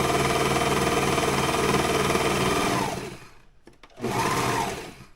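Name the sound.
serger overlock sewing machine stitching fabric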